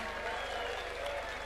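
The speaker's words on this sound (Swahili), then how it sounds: "tuwapigie makofi" Audience applause at a UDA National Governing Council political meeting chaired by Kenya's president, a dense steady clapping from a large crowd, loud and continuous throughout.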